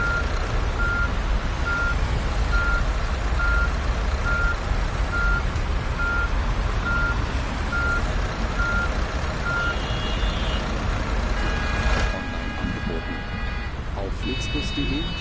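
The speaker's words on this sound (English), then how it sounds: "What's that beeping noise?" Steady warning beeps repeat at an even rhythm from a bus in the Fernbus Simulator driving game, sounding over a constant engine drone and road noise until other chimes and tones join near the end.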